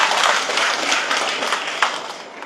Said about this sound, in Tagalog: Pag pumalakpak tayo ng malakas para po kay Governor Oy Umali at Vice Lemon